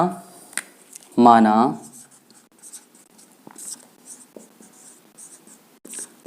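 Marker or chalk writing on a board during a class 12 physics lesson on capacitor combinations, a brief burst of scratchy strokes near the start followed by faint intermittent scribbles, with some speech at the outset.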